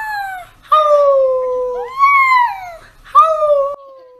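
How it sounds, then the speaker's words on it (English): A puppy howling in three drawn-out, wavering tonal howls with short breaks between, close and clear with nothing else around. "teaching my daughter how to howl."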